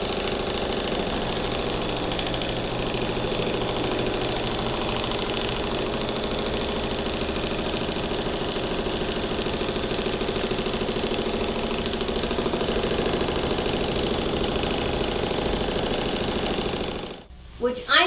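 A home embroidery machine sews a tack-down stitch around an in-the-hoop jelly vinyl project, a close, steady, rapid mechanical whir and rattle that runs unbroken for most of the clip and then stops with a few knocks.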